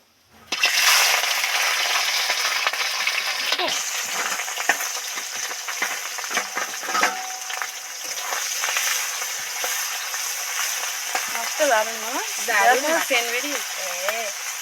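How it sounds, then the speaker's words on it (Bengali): Small mourola fish full of roe sliding into hot oil in a kadai, setting off a loud, bright sizzle that keeps going under scattered stirring clatters, with a short voice-like sound near the end. "আস্তে আস্তে সব মাছগুলো তেলের মধ্যে উঠিয়ে দেবো"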